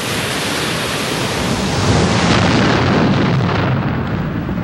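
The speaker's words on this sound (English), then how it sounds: "These erupt when magma below forces its escape." A volcano erupts with a dense, continuous roaring blast, loud and sustained with no breaks, swelling slightly in the middle.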